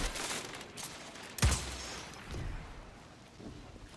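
Gunfire in Destiny 2 on Xbox One, a brief burst of shots with one sharp loud crack near the middle of an otherwise noisy game mix.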